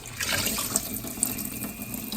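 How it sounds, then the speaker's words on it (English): Tap water running over peeled potatoes being rinsed in a kitchen sink, a steady close splashing flow with small clinks, no talk. "after I peel them, I rinse them off to make sure that there's no dirt"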